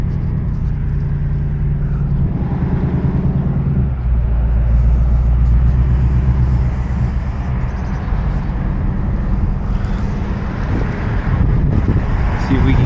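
A 2024 Ford Mustang Dark Horse with a six-speed manual gearbox is heard from inside while driving: a steady, loud low engine rumble blends with road and wind noise for the whole stretch, with a slight rise in intensity partway through.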